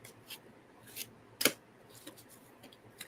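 A deck of tarot cards is shuffled by hand in a quiet room during a ritual reading, giving faint brushing riffles and one sharper snap of cards, with no talk.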